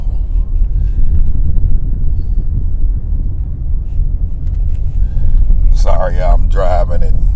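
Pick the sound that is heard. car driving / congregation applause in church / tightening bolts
car driving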